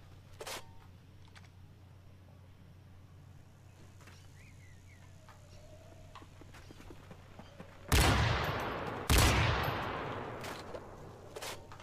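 Gunfire in an online multiplayer shooter match: two loud, close bursts of shots stand out near the end over a quiet background, with a few fainter shots earlier.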